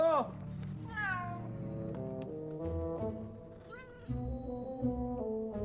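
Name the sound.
cat meowing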